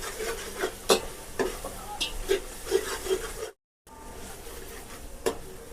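Coriander, mint and green chilies sautéing in a pan, with a spoon scraping and stirring in repeated strokes over a soft steady sizzle, a short gap of silence partway through.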